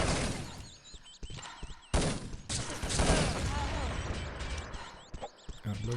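Grenade explosions in an online team match: several heavy blasts and crackling bursts among rapid gunfire, loud and chaotic, while a commentator talks over the action.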